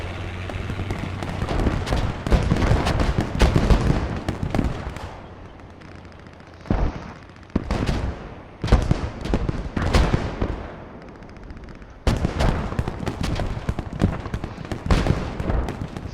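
Mortar and gunfire in the WWII shooter Post Scriptum boom and crackle in clusters of sharp blasts, some near and loud, others distant, separated by brief lulls.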